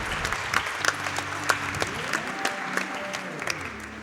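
Scattered handclaps during a speedrun event of The Legend of Zelda: A Link to the Past sound over a low background of music tones, a modest, uneven patter of applause rather than a big crowd.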